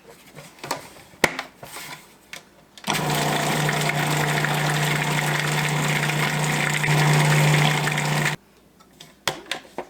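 Food processor whirring loudly and steadily for several seconds as it blends lemon juice and beans for hummus, starting and stopping abruptly, with light clatter and knocks before and after.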